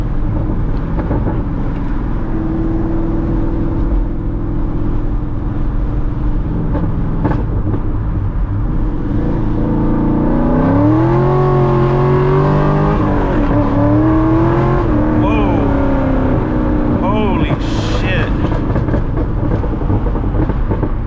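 A C6 Corvette on 345-section tires accelerates hard, its engine roaring loud and close in a rising drone that drops and climbs again through a shift into third gear at around 70 mph.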